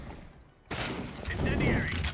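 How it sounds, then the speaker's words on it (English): A grenade is thrown in the game CS:GO: a sudden burst of loud, crackling in-game noise follows a quiet moment, dense and sustained with sharp overlapping hits. "Throwing grenade."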